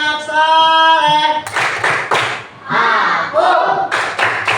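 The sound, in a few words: rhythmic group clapping for the 'tepuk anak soleh' chant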